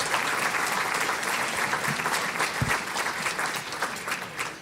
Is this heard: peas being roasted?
no